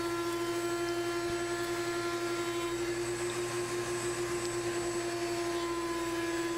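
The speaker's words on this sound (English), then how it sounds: "just time to do a little bit of final sanding on them to even them up there" A power sander whines steadily as it smooths shelves made from cherry firewood. The motor gives a constant, close tonal hum and drone with no pauses or speech.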